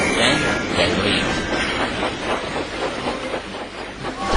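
Thomas the Tank Engine, a steam locomotive, chuffs along in a steady, dense rush of hissing steam and rumbling rail noise that carries on without a break.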